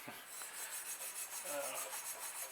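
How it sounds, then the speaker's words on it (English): A 1997 GT Interceptor bicycle handlebar is polished by hand with a cloth, producing a close, soft rhythmic rubbing and hissing swish that repeats steadily throughout. "I like to give it a little bit of a twist as I'm polishing the handlebar."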